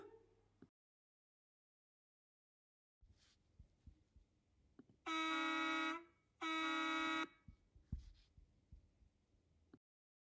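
Two long, loud blasts from a bus horn sound close by, separated by a short gap, over low background rumble and occasional thumps.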